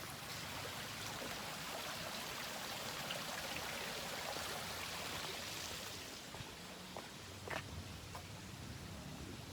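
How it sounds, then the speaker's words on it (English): Faint, steady rushing of falling water, a continuous distant hiss with no voices. "There's the waterfall."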